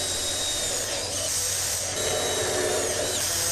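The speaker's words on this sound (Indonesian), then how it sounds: "ini kita pasang kemudian kita baut roofing juga." A power drill drives roofing screws into a light steel frame for a tarpaulin fish pond, giving a loud, continuous high whine that holds steady for a few seconds and shifts slightly in pitch partway through.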